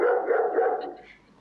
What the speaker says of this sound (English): A dog barking, June.